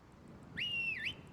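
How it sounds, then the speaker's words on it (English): A single rising, sustained whistle in Skyrim calls the dog Maximus, clear and alone for about half a second before dipping and fading. "whistle for Maximus"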